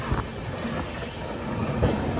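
Passenger express train rolling slowly into Churu railway station, a steady low rumble of wheels and carriages with faint clacking and a brief squeal, heard from inside an AC coach.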